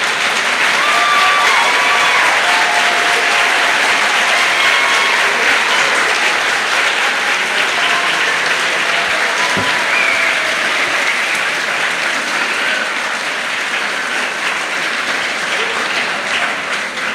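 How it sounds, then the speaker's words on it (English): Sustained, loud audience applause for nursing graduates at a Bachelor of Science in Nursing ceremony, a dense wash of many hands clapping steadily throughout with a faint murmur of crowd voices. "And I'm going to ask the audience to applaud them."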